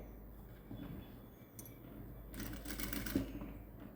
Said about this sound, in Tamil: அதைத்தான் இப்போ நான் உங்களுக்கு அப்படியே தைக்கிறேன்.